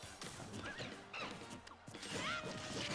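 Up smash attack landing in a Super Smash Bros. tournament match with Young Link against Diddy Kong: sharp smacking hit effects stacked over dense, continuous game sound and crowd noise.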